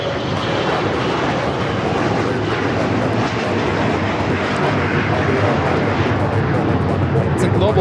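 A Bombardier Global 5000 business jet at Los Angeles International Airport roars with a loud, steady, broadband engine rush that holds unbroken for several seconds.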